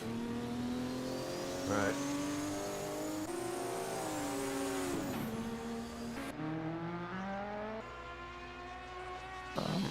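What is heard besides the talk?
1978 DRM race cars racing at Super Sprint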